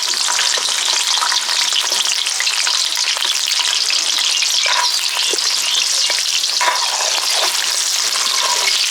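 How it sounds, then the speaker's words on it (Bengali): Pointed gourd (potol) frying in hot oil, a loud, dense, unbroken sizzle and crackle with occasional stirring clicks, close up and without any talking. "এখন পটলগুলো একদম লাল লাল করে ভেজে নিব।"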